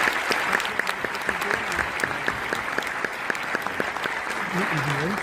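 Steady applause from an audience fills the whole stretch, dense clapping at an even level with a few louder claps and some voices mixed in.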